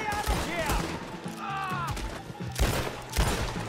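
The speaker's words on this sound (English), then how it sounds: "there's guys still shooting" Video-game gunfire in Red Dead Redemption 2: a rapid fusillade of repeated gunshot bursts, loud and close, while a voice talks over the shooting.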